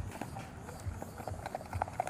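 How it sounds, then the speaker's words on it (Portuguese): Horse hooves clip-clop at a Saturday horse and animal fair in Abreu e Lima, Pernambuco, a quick, uneven run of soft hoofbeats at moderate distance over a low background murmur. "Quem comprar ele vai adquirir um belo animal, um belo cavalo"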